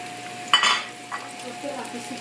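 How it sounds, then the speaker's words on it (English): Button mushrooms dropped into a pan of softened garlic, a short burst of sizzling and a clatter, then a quieter ongoing fry with a faint steady hum behind it. "The garlic nice and softened. Nice and softened. And we put the button mushrooms in."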